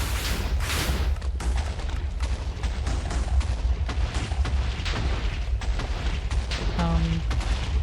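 Wither spawn explosion in the Minecraft video game: a loud, booming blast opening the moment, followed by continuous rumbling noise and scattered bangs that stay heavy throughout.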